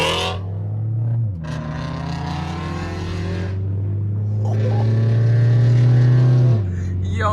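A GR86/BRZ sports car fitted with Tomei UEL headers blares its exhaust, the note dropping and climbing again as it downshifts, loud and close with harsh, droning tones.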